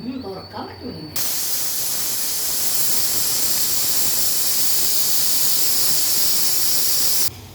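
A pressure cooker cooking rice releases steam in a loud, steady hiss that runs for about six seconds and then cuts off abruptly. A voice speaks briefly just before it starts.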